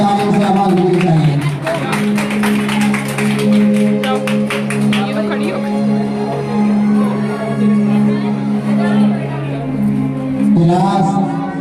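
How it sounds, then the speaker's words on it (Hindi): An audience at a school annual examination results ceremony keeps up a steady, dense round of applause mixed with crowd hubbub, with a voice announcing over it. "जोरदार तालियों से आवाज मिलनी चाहिए।"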